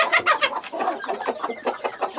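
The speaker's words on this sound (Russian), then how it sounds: "Петухи активизировались." Roosters and hens cluck close by, a rapid run of short clucks and chatter filling the moment, loud and busy with no talk.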